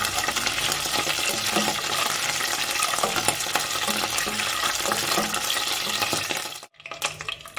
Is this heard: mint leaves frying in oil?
yes